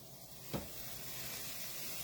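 Spiced potatoes sizzle steadily as they fry in a hot pan, with a brief clatter of stirring near the start.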